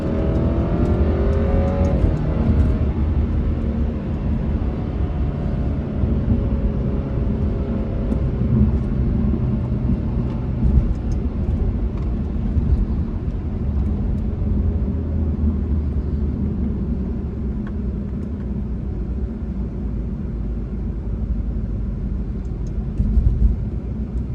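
An Alfa Romeo Giulia with a turbo engine accelerates, its engine note rising through the gears with shifts heard early, then settling into a steady loud cabin rumble of road and engine noise.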